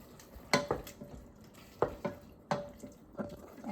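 Tuna, onions and radishes cooking together in a pot, giving a soft background sizzle broken by several sharp scraping stirs at irregular intervals, close and fairly quiet.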